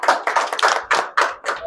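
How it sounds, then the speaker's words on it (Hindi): An audience claps at a Hindi Journalism Day event in Najafgarh, New Delhi. The applause is close and lively, with steady bursts of hand claps over a couple of seconds and no speech. "एक बार तालियां बजा दीजिए।"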